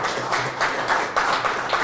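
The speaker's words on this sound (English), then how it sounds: "let's give the parents a round of applause" A school-district audience at an athletes' signing day applauds the parents, a dense, steady patter of many hands clapping close by, lasting a couple of seconds without pause.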